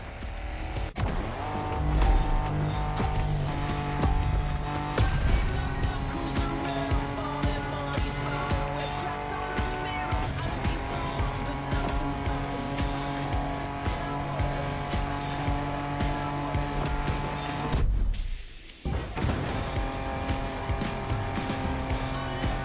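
An off-road car driven hard in The Crew Motorfest, with a steady loud engine drone and occasional tire squeal carrying on continuously, briefly cut off near the end before resuming.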